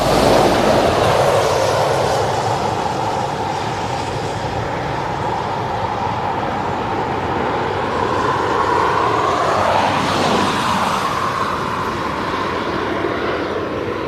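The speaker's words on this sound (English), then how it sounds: "West Atlantic's now on the taxi" A West Atlantic cargo plane taxis at East Midlands Airport, its engines giving a loud, steady whine and rumble close by, with a tonal hum that rises and bends partway through.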